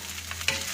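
Nasi goreng frying in a pan with a brief sizzle and a quick scrape of stirring, short and fairly quiet.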